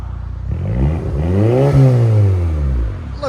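A 2008 Saab 9-3 2.0L turbo with straight-pipe exhaust revs once, loud and close, the raw exhaust note climbing to a peak and then sinking back down.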